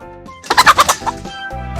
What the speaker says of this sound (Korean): 닭, chicken, 닭, chicken, 닭, chicken.